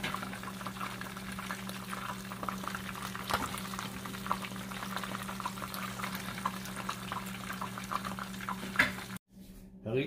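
Tilapia frying in hot oil, a steady bubbling crackle held throughout at moderate level with a low steady hum beneath, cutting out briefly near the end.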